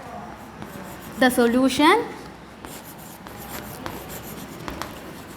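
The solution to a maths sum is written out during a primary-school maths lesson, with soft scratchy writing strokes heard close and under a teacher's speaking voice.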